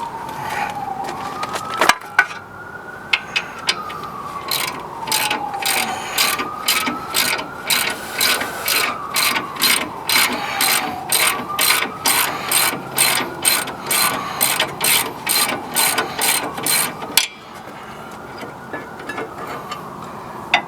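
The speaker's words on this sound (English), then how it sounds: "Let me get the number 18 ratchet." A number 18 ratchet working on the rear brakes of a Chevrolet Silverado: rapid, even clicking in quick strokes over a long run, with a wavering tone in the background and no talk.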